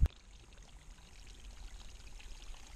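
Water pours steadily into a mountain water intake high on an alpine ski-touring route. After a brief knock at the start, the rushing sound stays constant and moderate throughout.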